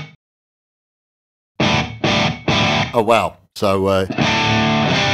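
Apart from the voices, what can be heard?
guitar amp with reverb effect from Two Notes Captor X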